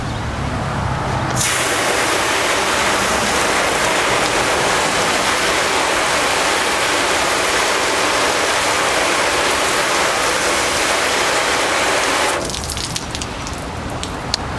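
Water rushing and sheeting off a car panel coated with IGL ceramic coating after a wet towel is removed, a loud continuous spray-like hiss lasting about eleven seconds before stopping abruptly.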